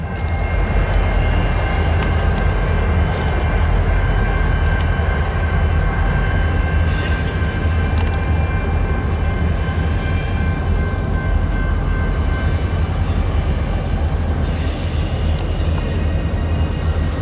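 A BNSF freight train rolls south on the St. Joe subdivision, loud and close, with a steady rumble of railcars, tonal wheel squeal and faint clatter running for the whole stretch with no voices.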